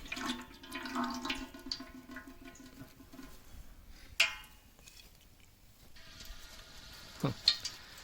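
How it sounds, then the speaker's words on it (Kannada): About 300 ml of cooking oil poured into a hot pan while making egg biryani gives a soft, quiet pouring sound and a faint, light sizzle close by, with a couple of small clinks and no speech. "ಒಂದು 300 ml ಎಣ್ಣೆ ಹಾಕ್ಕೊಳ್ತಾ ಇದ್ದೀವಿ."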